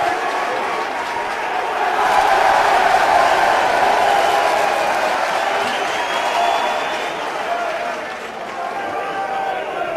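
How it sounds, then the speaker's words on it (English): A rugby crowd at a Harlequins versus Leeds cup match roars and cheers, a broad sustained swell of many voices that rises and stays loud, with a commentator talking over it. "That's got the biggest cheer of the day as Ian Smith awards the scrum to Harlequins."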